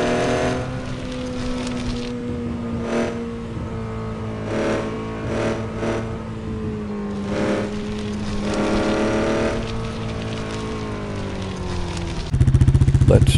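A Can Am Renegade ATV engine in the Off Road Outlaws video game hums at a steady, droning rev throughout, with a sharp jolt of added noise near the end.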